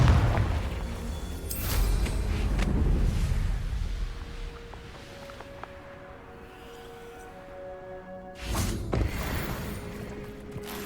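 Confringo spell blasts in Hogwarts Legacy, a burst of low booming and crackle at the start, then fading into quiet mechanical creaks and tones before a second sharp blast near the end.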